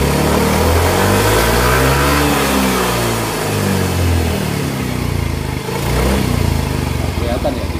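A Yamaha Mio GT125 scooter engine fitted with a Vario 125fi piston and a Diasil cylinder revs hard under throttle. It is loud and close, with rising and falling engine tones that repeat through the whole stretch, and the engine smokes slightly at high revs.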